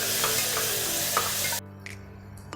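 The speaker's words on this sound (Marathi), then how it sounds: "आपल्याला हा मसाला छान भाजून घ्यायचा आहे" Spice masala with cumin and bay leaf roasts in oil, crackling in a dense, even sizzle with light stirring scrapes, then quickly drops to a quieter fizz with a couple of soft clinks.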